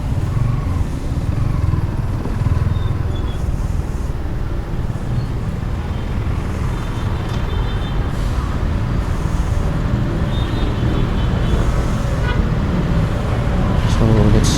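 Busy road traffic heard from a motorcycle on the street: steady engine rumble, passing vehicles and occasional horn toots, with a voice talking over it.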